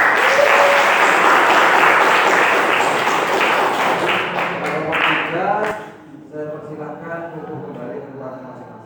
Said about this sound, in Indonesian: beri tepuk tangan yang meriah untuk kelompok 3 ya